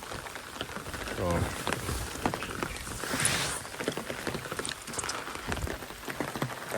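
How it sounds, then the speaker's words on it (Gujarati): Rain falls steadily over open village farm fields, a soft continuous patter with scattered drops close by, while a voice talks over it. "જુઓ મસ્ત વરસાદ ચાલુ છે મસ્ત અત્યારમાં."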